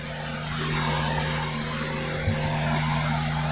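A Suzuki Jimny Wild Wind JA22 sits with its engine running, giving a steady, close idle drone with a constant low hum and a faint bump partway through, with no talking.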